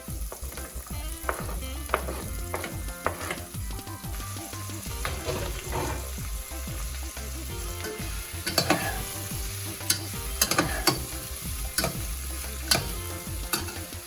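Onion, garlic and Italian sausage fry in a pot with a continuous loud sizzle, broken by repeated spoon scrapes and clinks against the pot, and sharper crackles toward the end.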